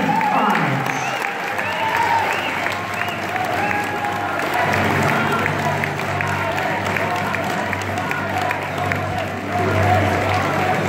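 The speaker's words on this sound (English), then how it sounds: "Please give a big round of applause for Ryan." A crowd at a men's college basketball senior day applauds steadily and loudly, a dense continuous clapping that fills the arena for the whole stretch, with some cheering mixed in and an announcer's voice beneath it.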